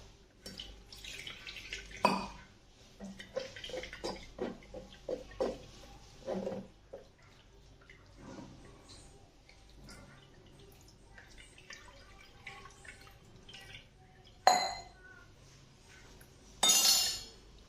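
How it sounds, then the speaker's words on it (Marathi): Paneer is being rinsed in cold water in a bowl, with irregular splashes, drips and clinks of utensils close by, some louder bursts and quieter dripping gaps, no talking. "हे पनीर थंड पाण्यानं व्यवस्थित धुवून घ्यायचं आहे"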